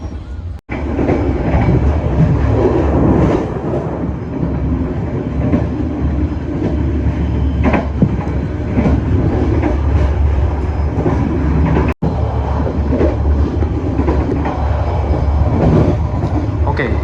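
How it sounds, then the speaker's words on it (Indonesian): Erlangga passenger train running on rails near Sragen station, heard from on board as a continuous loud rumble with rhythmic wheel clatter and occasional squeal, unbroken for the full stretch. "ini sekarang kereta api Erlangga persiapan melintas stasiun Sragen ya"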